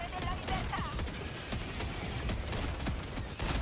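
Bursts of rapid gunfire and explosions from the Helldivers 2 video game crackle throughout. They come as dense, sharp volleys at modest level, with a voice talking underneath.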